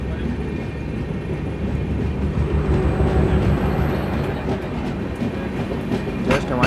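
Intercity Express train from Narkher to Kacheguda running on rails, a close, steady rumble with rhythmic clickety-clack of the wagons over the track joints, continuing without pause.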